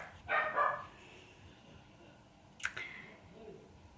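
A puppy barks a couple of times up close, a short sharp burst early on and another brief yap later, with quiet room noise in between.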